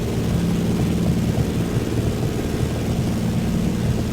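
A simulated aircraft engine in Microsoft Flight Simulator 2024 drones steadily and loudly throughout, a continuous low propeller-like rumble with no other sounds over it, during a rainy-day flight near Nairobi, Kenya.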